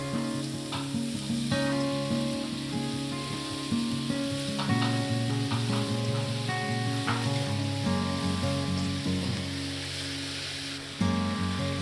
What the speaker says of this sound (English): We're going to start out with the frying pan here. We're going to put some onion and garlic. Brown it a little bit